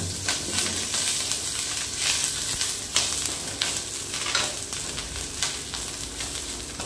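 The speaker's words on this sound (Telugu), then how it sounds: "ఇప్పుడు మనం కడిగి ఆరబెట్టుకున్న కరివేపాకుని వేగించుకోవాలి" Washed, dried curry leaves fry in about a spoonful of hot oil, giving a close, continuous sizzle and crackle with scattered bursts of popping as they are stirred.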